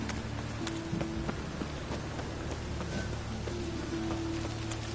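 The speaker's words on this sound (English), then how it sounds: "Rain again" Steady hiss of rainfall in the video game The Witcher 3, with scattered drops tapping, a low droning hum underneath and faint tonal sounds drifting in and out.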